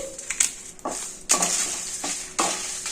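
Coriander seeds, cumin and mustard seeds frying in a pan, with soft sizzling and several scraping, clinking stirs against the metal at irregular intervals.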